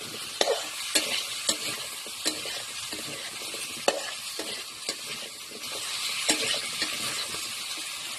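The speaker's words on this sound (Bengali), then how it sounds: "ভালো করে ভেজে নেব, যখন ভেজে ভেজে সিদ্ধ হয়ে যাবে।" Potatoes fry in a pan with a soft, steady sizzle, punctuated by regular sharp taps and scrapes from a spoon stirring them. The sound is fairly quiet and close, with no voices.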